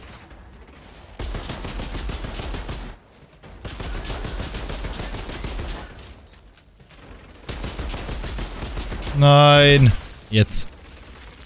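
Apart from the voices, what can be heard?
fully automatic gun firing in video game Outriders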